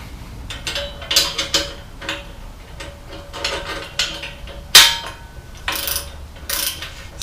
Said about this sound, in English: Alright, I got the right deep well socket.